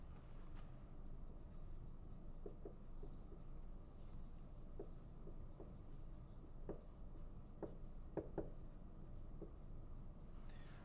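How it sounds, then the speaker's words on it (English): Pen or pencil writing out a math answer by hand, faint scratchy strokes and light taps over a low steady background hum, close and quiet, with no talk. "I'm going to write our answer right over here"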